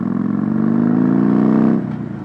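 A V-twin Harley-Davidson Dyna motorcycle engine with a stage 1 exhaust revs up with a deep, throaty rumble that rises steadily, then drops off as the throttle is released.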